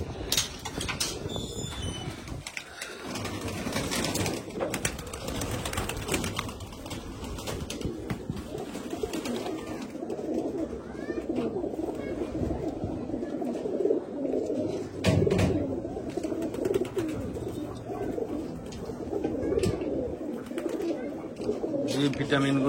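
Pigeons coo steadily throughout, several birds close by with soft, repeated throaty calls over a constant background murmur.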